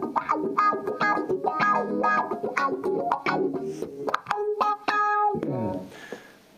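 An electric guitar plays short funky chord stabs and riffs through a wah pedal, the tone sweeping up and down, ending on a ringing note.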